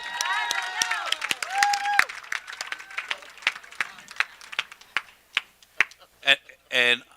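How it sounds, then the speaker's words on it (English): Scattered clapping from an audience at a women's entrepreneurship awards ceremony, starting under a voice and thinning into sparse individual claps that fade toward the end. "One more round of applause for Lucy"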